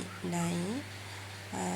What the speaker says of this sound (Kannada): ನಮ್ಮನೆ ನಾಯಿ